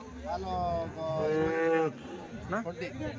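Cattle at a Sunday cow market in Chinthamani low in long, loud, close moos, with one extended call followed by shorter lowing and faint crowd noise in the background.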